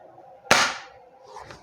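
A single sharp shot from a Kjworks M700 takedown bolt-action airsoft rifle, a close, loud crack that fades quickly, followed by faint handling noise.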